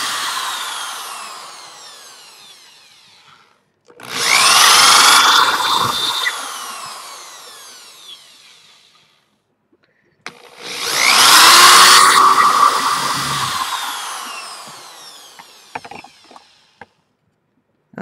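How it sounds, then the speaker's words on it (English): A power drill runs in two long, loud bursts, each several seconds long, its motor whining up and then winding down, separated by quiet pauses, close by and with no talk. "a drill's not a hard machine to handle"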